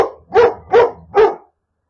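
Dogs bark three times in a steady rhythm, loud and close, during a rescue of chained dogs in Pelican Park, Cape Town, with no talk over them.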